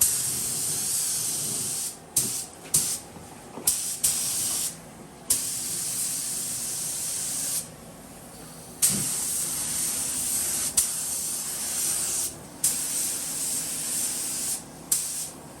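Spray gun laying thin, dry coats of thinned paint over masking tape, heard as repeated close hissing bursts of a few seconds each with brief pauses between passes, and no talking.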